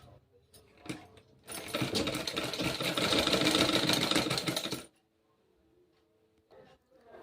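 Sewing machine runs in one steady burst of about three seconds while stitching the lining of a blouse, loud and close, with quiet pauses and faint handling noise before and after.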